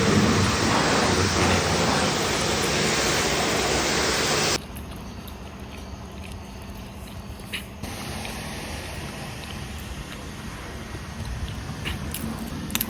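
A high-pressure washer blasts water onto a car at a service station, a loud steady hiss that cuts off abruptly, leaving quieter spraying and background noise as someone speaks briefly.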